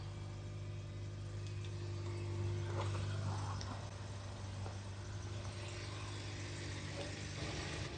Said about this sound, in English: it does say to start the engine